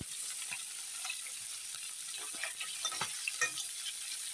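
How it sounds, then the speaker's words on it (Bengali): Rohu fish pieces fry in oil with a faint, steady crackling sizzle and occasional small pops, heard quietly at a distance without speech. "এই মাছগুলো 1 পাশ ভাজা হয়ে গেছে, এখন তুলে দেই।"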